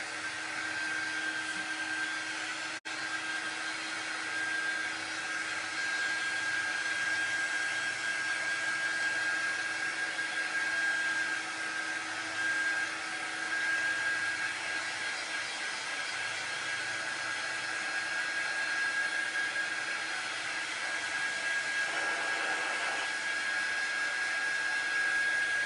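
A hair dryer runs steadily throughout, a continuous whooshing hum with a faint high whine, blowing to speed the drying of shimmer paint on a craft project, close and alone with no talking.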